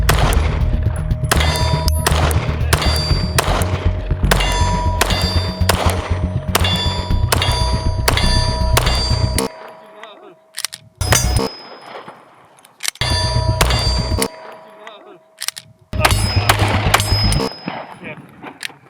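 A Springfield Armory Hellcat Pro pistol fires in rapid strings of sharp, loud close shots, several bursts separated by pauses, with metallic pings and ringing echoes between groups.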